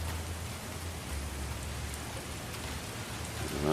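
Steady, dense rain pattering on surfaces, a constant hiss with no voices.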